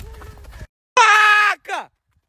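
A cow or calf on a farm gives a loud, close, drawn-out bawl followed by a shorter falling call, after a stretch of low rumbling background noise.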